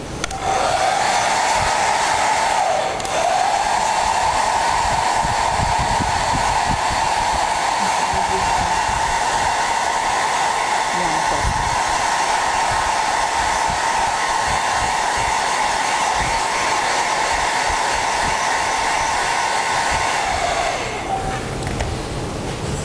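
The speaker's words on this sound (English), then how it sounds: "with the hair dryer." A hair dryer drying a surface before gluing blows steadily and loudly at close range for about twenty seconds, dipping briefly near the start, then shutting off.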